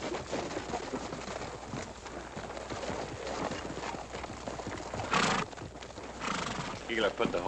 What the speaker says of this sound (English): put the horses away